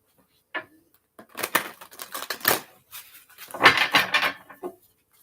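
Crisp papery riffling in short bursts, tarot cards flicking and slapping together in a few quick shuffles with brief pauses between.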